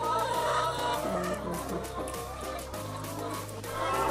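Laying hens in a coop, about two and a half years old, cluck and murmur continuously in overlapping bursts at moderate volume, with no voices present.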